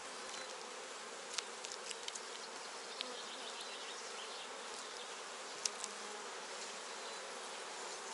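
Steady dense buzzing of many honey bees around an open hive, continuous and close, with a few brief louder clicks or taps.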